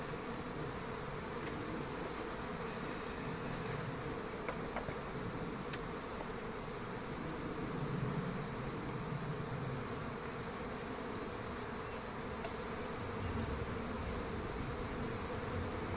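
A steady buzzing drone of many honeybees flying around a recovered swarm near beehives outdoors, continuous and fairly even in loudness, with a few individual bees passing close.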